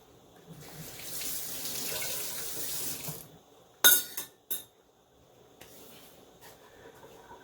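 A kitchen tap runs water steadily for about three seconds while Jamaican red peas soup with beef is being made. A few sharp clinks follow, then a softer trickle of water near the end.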